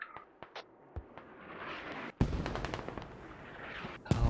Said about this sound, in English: The counter barrage is real.